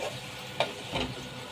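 A frozen ingredient from the freezer drops onto onion frying in a pan, giving a steady sizzle with a sharp burst of crackle at the moment it lands and brief stirring scrapes.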